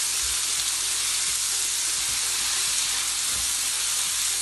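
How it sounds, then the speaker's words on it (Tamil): Onions fry in ghee for restaurant-style chicken biryani, making a dense, even, hissing sizzle throughout, with faint occasional stirring knocks underneath and no voices. "நல்லா இந்த நெய்யிலேயே நல்லா வதங்கட்டும்"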